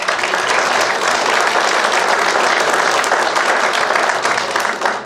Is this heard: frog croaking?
no